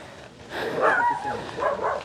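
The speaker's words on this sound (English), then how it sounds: "hear the dog, Marcel." A dog barks a few times outdoors, moderately close, with short bursts and some whimpering yips over a quiet background.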